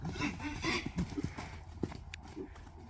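Horses move about nearby, hooves clip-clopping in irregular, uneven steps with a few sharper knocks, fairly quiet over outdoor background.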